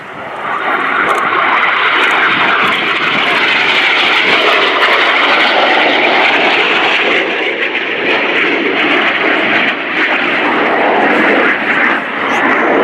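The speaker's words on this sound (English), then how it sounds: "Left and right again for the synchro pair. Ready for the opposition barrel roll." Two Red Arrows jets of the synchro pair fly an opposition barrel roll at an air show, a continuous, loud jet roar that swells and shifts slightly as they move, with an announcer talking over it.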